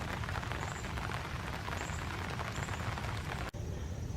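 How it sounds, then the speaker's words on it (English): Hard rain pours steadily onto a park pond, a dense, continuous hiss of drops close by and fairly faint, unbroken by voices and ending in a brief click. "as you can see, it's raining pretty hard"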